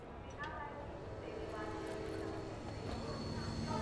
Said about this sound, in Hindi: यही ट्रेन जाती है लखनऊ,